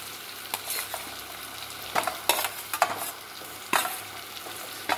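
Potato pieces sauté with tomatoes in a pan under a low, constant sizzle, broken by several sharp scraping strokes of a spoon stirring against the metal.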